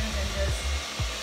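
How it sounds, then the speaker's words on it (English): A hair dryer runs on high in a salon-style hair straightening session, a loud steady whooshing blast with a low motor hum and a slight pulsing as the airflow shifts, with no speech. "Turn it on high, ladies. And you just gotta just basically, ladies, just dry your hair."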